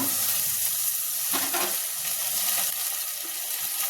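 Potato and drumstick pieces sizzling in a frying pan with curry leaves and turmeric, a dense continuous hiss close up, with a brief stirring scrape in the middle.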